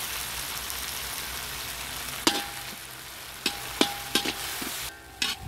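Whole bitter gourd sautés with salt in a pan, giving a steady close sizzle that is broken by several sharp spoon clicks and stirring knocks toward the end.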